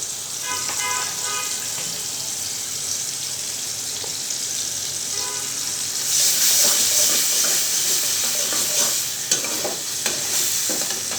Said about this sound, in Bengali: বেশি ভাজতে হবে না পেঁয়াজটা